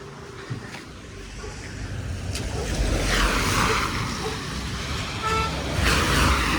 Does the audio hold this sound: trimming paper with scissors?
no